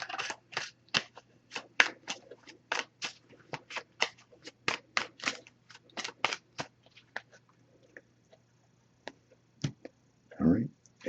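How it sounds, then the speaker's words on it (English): Oracle cards from a Messages of Love deck shuffled by hand in a quiet room, a rapid run of crisp riffling flutters in bursts, close and moderately loud, with a brief louder rustle near the end. "I'm just going to give this a few shuffles."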